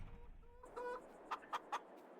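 Backyard chickens give a few soft clucks and then three short, clear cackling notes in quick succession, nearby but fairly quiet.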